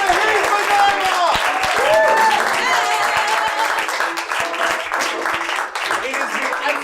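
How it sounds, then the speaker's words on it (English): Loud round of applause for puppeteer Heath McIvor at a comedy festival puppet show, dense clapping with cheering and talk layered on top, tapering slightly near the end. "Round of applause, please, to Regis,"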